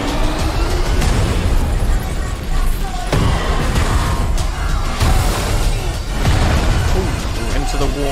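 Booming explosions from the Fast X movie trailer burst loudly several times amid music and crashing effects, with speech under the blasts.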